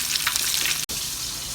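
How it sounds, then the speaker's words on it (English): Chicken pieces frying in hot oil for homemade zinger burgers, a loud continuous sizzle and crackle that drops out for an instant midway and resumes. "The chicken is frying up really well."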